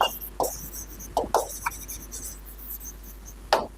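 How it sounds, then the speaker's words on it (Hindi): A pen writing out the ratio of the areas of two triangles during a maths lesson, heard as several short scratchy strokes with pauses between them, fairly close and alone. "चलो पूरा लिखते हैं"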